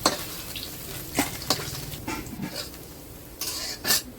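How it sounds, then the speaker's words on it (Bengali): Paneer frying in a wok in a village kitchen: a bed of soft sizzle broken by several sharp scraping and clinking spatula strokes, close and moderately loud, with no voices. "এখন পনিরটা ভেজে নেবে।"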